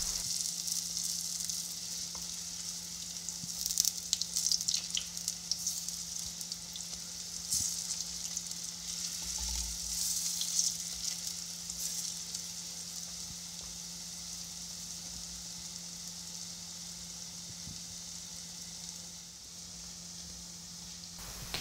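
Chickpea fritters frying in oil as they are turned, a soft continuous sizzle with light bubbling and occasional scraping, fairly quiet and steady, no voices.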